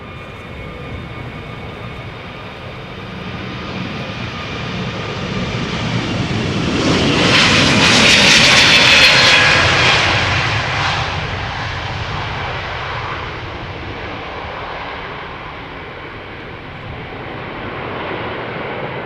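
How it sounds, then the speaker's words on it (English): A brand-new Airbus A321neo jet departs Amsterdam Schiphol Airport up close, its engine roar swelling loud to a peak midway and then slowly fading into a distant rumble. "A321neo, brand new airplane."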